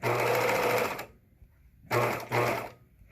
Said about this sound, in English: And just sew all the way down, finishing with the back stitch as well.